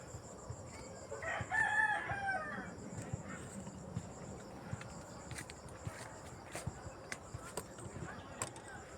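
A rooster crows once near the start, followed by scattered clucks and light footsteps at a moderate distance.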